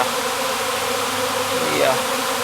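Dense swarm of killer bees buzzing around a hive, a continuous close, loud insect hum with no pauses.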